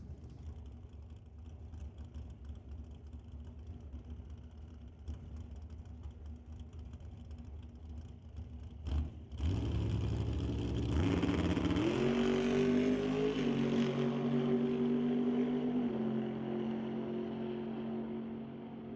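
1967 Mustang drag car launching down the quarter mile at a drag strip: a low idle hum gives way to a sudden loud engine roar that climbs in pitch through gear changes, then slowly fades with distance.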